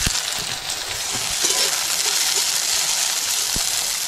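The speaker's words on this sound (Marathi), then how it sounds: "हे बघा आता ही भेंडी टाकायची." Okra frying in a pan gives a steady, loud hiss and sizzle throughout, with a few faint stirring scrapes and taps near the start and end.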